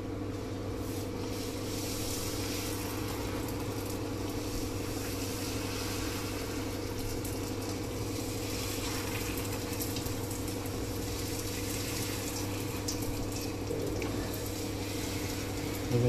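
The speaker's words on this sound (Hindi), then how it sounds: "अब इसको गरम तेल में डालेंगे।" Small rolled rounds of pani puri dough fry in hot oil, giving a steady, even sizzle that runs unbroken throughout at a close, moderate level, with no talking.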